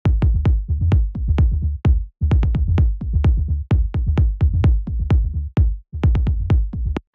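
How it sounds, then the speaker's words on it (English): A bass line from a music production track plays with no talk: a steady, dense stream of deep, punchy notes and low thumps rolling continuously, loud and close, with only brief breaks. "Then we have the bass line."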